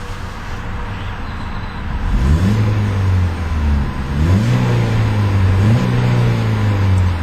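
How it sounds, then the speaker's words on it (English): A 2012 Ford Focus SE's four-cylinder engine idles steadily, then is revved three times in quick blips, each rising and falling back to a smooth idle, loud and close with no talking. "let's go ahead and give that 4-cylinder a rev"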